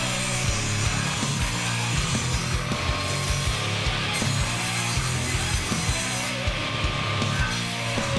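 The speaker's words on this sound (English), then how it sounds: "I started by cutting the plywood sheets down to smaller, manageable sizes, progressively making my cuts to my final dimensions" A saw cuts down sheets of plywood into smaller pieces, making a continuous grinding drone with a steady rhythmic pulse, loud and close, with no voices.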